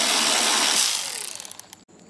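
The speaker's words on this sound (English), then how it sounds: "7mm bolt. Take that off." A hand ratchet loosening a 7mm bolt on a 2006-2013 Chevy Impala during headlight removal, a broadband metallic whir giving way to a quick run of close, distinct ratcheting clicks that slow and stop.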